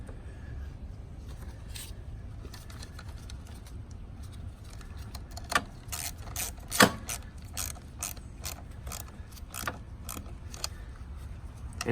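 Fitting and tightening the negative cable on a modern car battery brings close, quiet ratcheting clicks and small metallic rattles over a low background hum, with a few sharper clicks in the middle.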